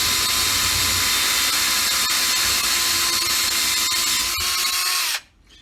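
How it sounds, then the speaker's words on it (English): A power drill runs continuously at a high steady whine while boring through drywall from the back side, loud and close, then stops abruptly near the end. "I've determined the best way to drill is from the back."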